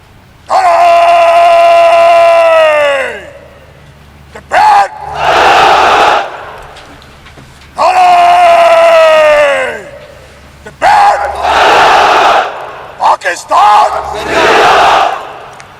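Spectators at the Pakistan Day Parade on the Islamabad parade ground chant a slogan in unison. An amplified voice leads each call and the massed crowd roars back loudly, in repeated call-and-response rounds.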